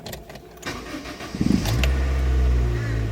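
A Honda Fit engine starting: a brief rattle and the clicks of the ignition, then a short cranking burst that catches into a steady, close, low idle hum.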